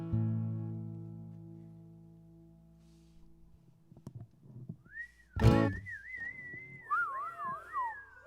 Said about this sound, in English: I shouldn't whistle into the microphone.